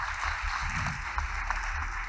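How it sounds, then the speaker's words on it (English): An audience at a startup pitch competition claps in a steady, fairly loud wash of applause that lasts about two seconds, with no speech over it. "Round of applause, please."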